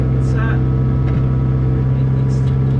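A Kubota KX57-4 midi excavator engine hums steadily at a low, constant pitch nearby, with a voice speaking briefly over it.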